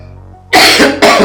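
A person coughs hard twice in quick succession, close and loud, after a near-silent pause, with no talking.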